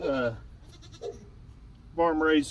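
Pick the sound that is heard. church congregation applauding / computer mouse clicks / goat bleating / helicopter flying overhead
goat bleating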